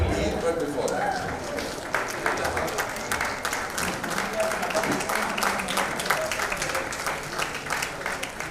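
Audience applause at a Bollywood event, a steady dense wash of clapping and crowd noise lasting throughout, with voices mixed in underneath.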